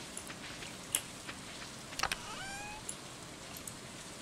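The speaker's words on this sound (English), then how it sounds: "So glad it was raining today." Rain falling in Stardew Valley, a soft steady hiss of the game's rainy-day ambience with a few faint drips and small clicks scattered through, quiet and alone with no talk.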